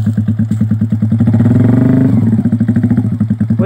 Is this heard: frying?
no